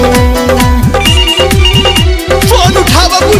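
A phone ringtone plays as loud, repeating melodic electronic tones with a steady rhythmic pulse, close and alone with no talking.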